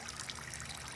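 Pond water trickles and patters steadily through about fifteen small holes drilled in the bottom of a cup, a soft, continuous, close dribbling.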